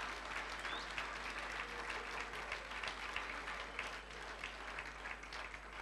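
Church congregation applauding, a dense continuous wash of clapping hands, fairly distant and steady for the whole stretch.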